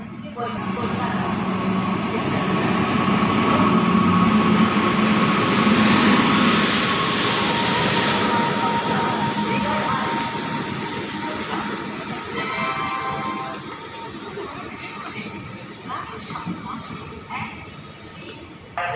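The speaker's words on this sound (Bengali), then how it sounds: "আমাদের ট্রেন এখন ঢুকে গেল মালদা টাউন স্টেশনের চার নম্বর প্ল্যাটফর্মে" An express train rumbles and rattles steadily into platform four of Malda Town station, a loud broad roar that eases slightly toward the end, with a person talking over it.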